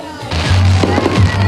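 Fireworks at a Valentine concert burst in quick succession, loud crackling pops layered over a low booming rumble, with crowd voices underneath.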